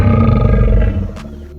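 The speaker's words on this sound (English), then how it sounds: "Now let's hear the sound effects, starting with the roar." Deep, rumbling dinosaur roar sound effect from the Dinosaur Simulator video game, a single loud, sustained growling bellow that fades at the end, heard alone.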